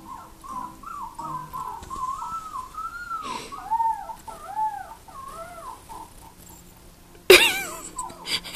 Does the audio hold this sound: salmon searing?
no